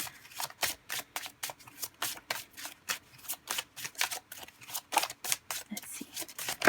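Oracle cards being shuffled by hand in rapid, rhythmic riffling bursts, close and crisp, continuing steadily with short gaps between the bursts.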